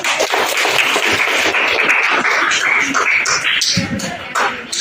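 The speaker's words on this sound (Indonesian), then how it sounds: "Tepuk tangan." Classmates clapping for a student during a lesson in a Jakarta junior high school classroom: a short burst of mixed, uneven claps that thins out toward the end, with some voices and shuffling underneath.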